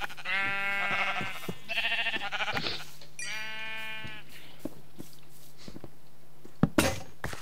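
Sheep in the Minecraft video game bleat several times in close succession, loud and near, followed by a few soft clicks and a sharp tap in an otherwise quiet scene.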